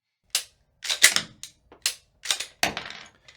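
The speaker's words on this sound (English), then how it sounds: "after the last snap cap pops out, the slide should lock to the rear." Snap caps popping out of a Ruger RXM pistol as the slide is cycled, a series of sharp close metallic clacks and snaps in uneven rhythm, ending with the slide locking to the rear.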